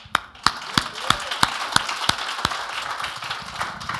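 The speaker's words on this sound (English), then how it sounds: "everybody needs to clap in this room" A room of listeners at a youth mentoring talk breaks into clapping. It opens with strong, evenly spaced single claps in a steady rhythm, then settles into a softer, diffuse patter of hands.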